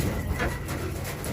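Golla pigeons, a male and female pair, cooing softly, with a couple of low coos over a steady background hum.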